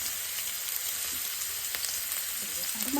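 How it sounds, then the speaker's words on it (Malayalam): Ginger sizzles in hot oil for an Onam ginger curry, a loud continuous fry close to the microphone with light stirring clinks toward the end. "ഇഞ്ചി ഇഞ്ചി എണ്ണയ്ക്കകത്തോട്ടിടുന്നു"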